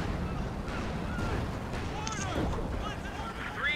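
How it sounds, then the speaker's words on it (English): Mortar and infantry support gun fire in Company of Heroes 2, a dense barrage of booms and bursts rolling continuously under voices talking. "Mortars and infantry support guns, a lot of them."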